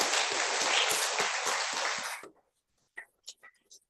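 Audience applause at a university graduation day ceremony for SASTRA, a dense burst of clapping that runs about two seconds and stops abruptly, followed by a few faint scattered sounds.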